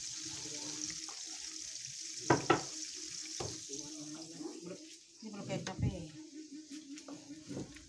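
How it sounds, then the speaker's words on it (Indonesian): Eggplant stir-fried in a pan for Indonesian oseng-oseng: a quiet steady sizzle with intermittent scraping and stirring clatters, including a couple of sharper knocks in the middle. "Ini memasak terong juga buat eseng-eseng terong."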